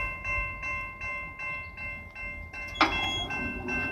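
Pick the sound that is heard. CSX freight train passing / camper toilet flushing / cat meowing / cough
CSX freight train passing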